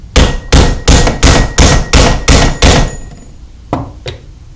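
Heavy hammer blows drive out a car U-joint, eight loud, close metallic strikes in quick succession, then a pause and two lighter taps near the end, with no talking.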